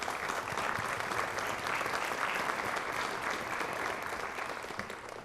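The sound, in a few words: audience applause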